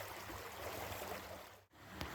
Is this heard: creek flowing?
yes